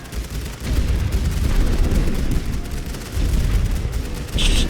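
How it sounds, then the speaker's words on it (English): Dense, continuous machine gun fire from The Great War: Western Front, a First World War trench strategy game, rattling in a loud sustained stream of overlapping bursts with deep booms underneath and no pauses. "but I've just got so many machine guns."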